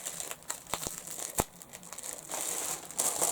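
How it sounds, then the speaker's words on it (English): Cellophane bags wrapping yarn, bought from Pleta in Bulgaria, crinkle and crackle close by in irregular bursts, with a few sharp snaps and a louder rustle toward the end, no voice over them. "I didn't realise they came separately wrapped in cellophane bags. I apologise for the crinkle."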